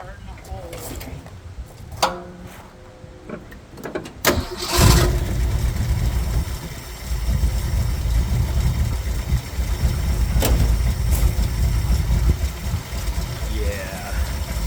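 Engine of a 1966 Ford F100 shop truck cranks with a few clicks, catches and fires up, then settles into a loud, steady rumbling idle with occasional revs, close by and with no talk.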